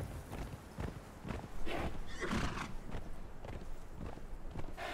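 Horse hooves in the video game Conan Exiles, a run of hollow clip-clop beats in quick rhythm, moderately loud and close, with a snort or whinny partway through and no talk.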